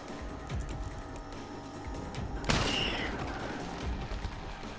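Gunfire in the survival horror video game Wicked Seed: a sharp burst of shots about midway over a constant game ambience, with a fainter shot or two trailing after.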